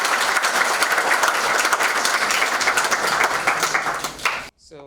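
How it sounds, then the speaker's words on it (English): Audience applause after an educational institute's felicitation of a civil services topper, sustained dense clapping from a crowd for about four seconds before it cuts off abruptly. "huge round of applause for Paritosh sir."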